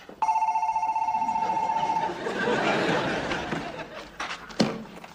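A telephone rings for about two seconds, a steady, bright electronic trill. Busy, murmuring noise with some laughter follows, and a sharp knock or click comes near the end.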